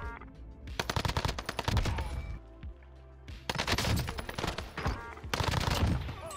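H4 Blixen gunfire in Call of Duty Warzone: loud, close bursts of rapid automatic fire separated by short pauses, with no talk over it.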